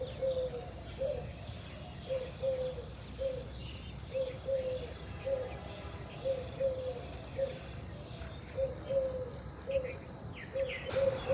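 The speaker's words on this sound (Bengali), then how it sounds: "পাখির কিচিরমিচির শব্দ," Birds calling on a university campus, a faint, evenly spaced series of short chirps repeating over a soft background hiss, with no talk.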